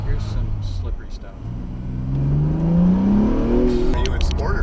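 Car engine in Sport mode climbing through the revs after a quieter stretch, a rising drone over road rumble, with other sounds near the end.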